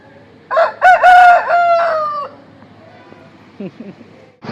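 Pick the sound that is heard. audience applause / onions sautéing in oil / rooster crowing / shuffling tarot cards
rooster crowing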